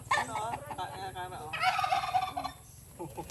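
A turkey gobbles in a loud rattling burst, then a second gobble follows after a pause, with a steady low hum underneath.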